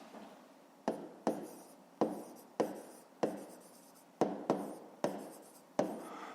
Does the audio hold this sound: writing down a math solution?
yes